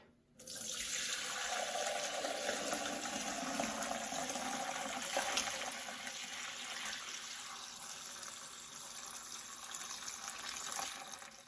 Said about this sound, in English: You can ladle your broth through the strainer.